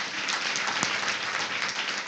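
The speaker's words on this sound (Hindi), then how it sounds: "अरे प्रभु के लिए तालियां नहीं बजाओगे?" Church congregation applauding, a dense, even patter of many hands clapping at moderate distance for a couple of seconds, with no talk over it.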